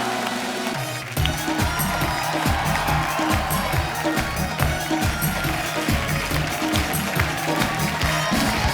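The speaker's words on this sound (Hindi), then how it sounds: "उनके लिए जोरदार तालियां" Steady, dense applause from a large TV comedy show studio audience with some cheering mixed in, loud and continuous after a brief quieter start.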